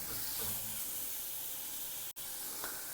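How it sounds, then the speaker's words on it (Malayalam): Onions sautéing in oil until golden brown give a steady, close hiss and sizzle that holds even for a few seconds, broken only by a brief gap. "ഉള്ളിയുടെ ഒരു ഗോൾഡൻ ബ്രൗൺ കളറാവുന്നവരെ നമുക്കിതൊന്ന് നന്നായിട്ട് വഴറ്റിയെടുക്കാം."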